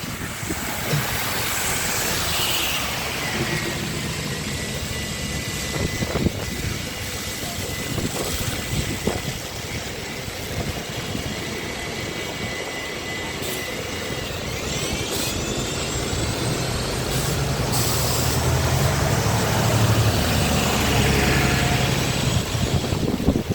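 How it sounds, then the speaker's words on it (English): Heavy vehicles rumble past outdoors in a long, steady, loud roar with shifting engine drone and road noise, rising toward the end as buses go by. "I'll wait for the buses to go past."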